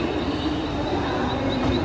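A train at CST station in Mumbai, heard as a steady loud rumble with faint high squeals over it, close by and continuous for a short stretch with no talk.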